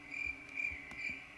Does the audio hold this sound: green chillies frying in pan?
no